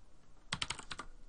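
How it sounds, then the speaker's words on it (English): Quick burst of about six keystrokes on a computer keyboard, close and fairly quiet against a soft background hiss, typing a short name. "type in your character name"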